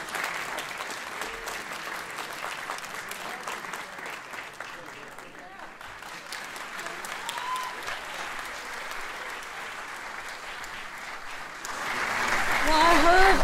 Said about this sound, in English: I heard such great cheering.